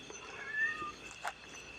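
A pet cat gives a couple of faint, short meows in a quiet indoor setting, the second one slightly sharper, with low room noise underneath.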